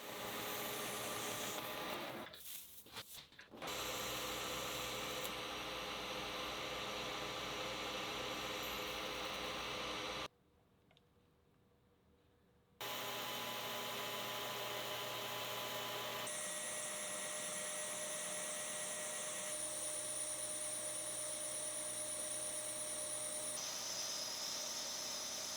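A metal lathe facing a part held in soft jaws, steady broadband cutting hiss and whine running near and loud, with a brief near-silent gap midway before the cut resumes with a brighter tone.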